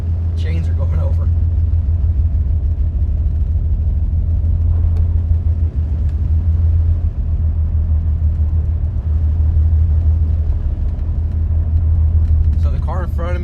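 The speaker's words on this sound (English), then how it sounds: "there's plenty of bare spots that my chains are going over." A car with snow chains drives slowly, just under 30 mph, on a prepared, treated road with bare spots, giving a steady, loud low rumble of tires and engine throughout, with faint voice sounds near the start and end.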